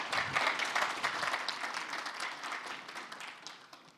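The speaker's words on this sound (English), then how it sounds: "Thank you for the applause." Steady applause from a crowd, dense clapping that gradually fades toward the end.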